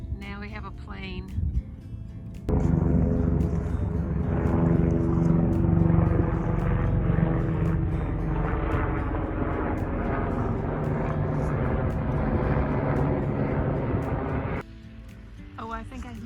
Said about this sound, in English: now we have a plane